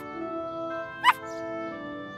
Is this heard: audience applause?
no